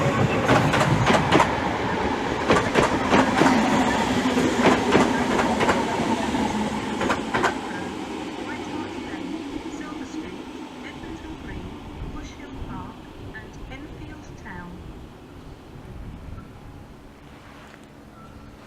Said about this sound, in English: And now arriving in is 2 Uniform 34, the 1103 London Overground service from London Liverpool Street to Enfield Town.